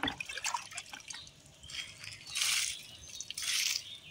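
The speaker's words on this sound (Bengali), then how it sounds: "পানি দিই, প্রতিদিন পানি দিই," Water is poured onto young coconut and areca seedlings in a village garden, heard as two short splashing bursts near the end after quieter trickling sounds.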